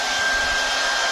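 A hair dryer rated around 2000 watts, powered at 230 volts, runs in a steady continuous broadband whoosh with a faint motor whine, loud and unbroken throughout with no talking.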